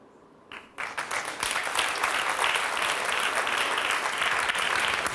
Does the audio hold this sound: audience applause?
yes